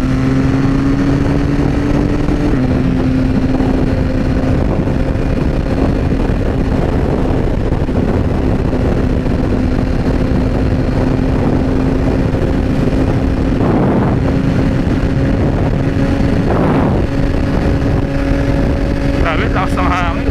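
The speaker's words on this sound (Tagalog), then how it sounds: "Grabe, lakas ng hangin." Strong, steady wind roar buffets the helmet microphone while riding a Yamaha XSR900 motorcycle on a morning ride near Tagaytay, with the engine's hum droning underneath and a voice talking over it.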